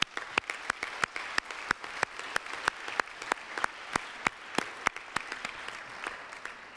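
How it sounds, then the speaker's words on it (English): At the ITU PP-22 closing ceremony in Bucharest, a close, sharp clap repeats at an even, quick pace over a softer bed of audience applause that lasts throughout. "Let's give them a warm round of applause."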